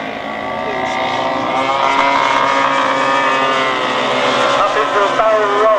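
Four model aircraft at an outdoor air show fly a barrel roll in formation, their small engines droning loudly with pitches that rise and fall together, while a commentator talks over them.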